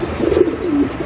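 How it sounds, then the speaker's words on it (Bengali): A pair of white Indian Bombay pigeons gives one soft, brief, close-up coo with no other sounds around it. "দেখতে পাচ্ছেন সাদা ধবধবা একজোড়া ইন্ডিয়ান বোম্বাই কবুতর"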